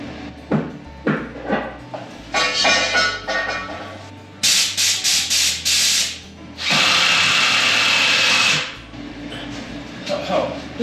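A power drill drives fasteners into a wooden 2x8 support fixture, with short whirring bursts and then a long sustained run, plus knocks and handling noise between them, close and loud.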